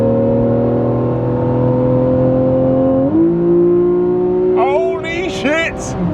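A Porsche 991.1 911 GTS engine in sport mode, a steady loud drone that shifts up in pitch partway through as the car pulls harder, with an excited voice breaking in near the end.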